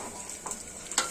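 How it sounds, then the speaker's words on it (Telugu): Chopped onions and green chillies fry lightly in a shallow layer of hot oil in a pan, a faint, quiet sizzle with a few soft stirring scrapes. "బ్రౌన్ కలర్ వచ్చేంత వరకు లైట్గా వేయించుకోవాలి"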